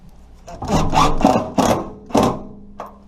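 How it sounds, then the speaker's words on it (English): A kitchen range hood being screwed into wooden shims: several short whirring, grinding bursts as screws drive into wood, close and fairly loud, followed by a brief final click. "Now we'll go ahead and screw in the hood to those shims we made."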